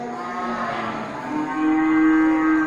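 A Simmental cow at a cattle sale gives a single long, close moo that rises and holds steady toward the end, with no talk over it.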